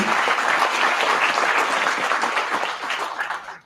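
Audience at an engineering career guest session applauding, a full, dense burst of many hands clapping loudly and steadily before fading out at the end.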